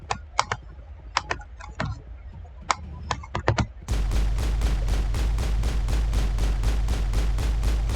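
A pistol fires on full auto in Mass Effect 1, a rapid, evenly spaced stream of loud shots that begins abruptly after a stretch of keyboard typing and carries on without pause.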